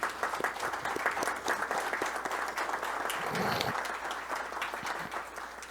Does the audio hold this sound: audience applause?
yes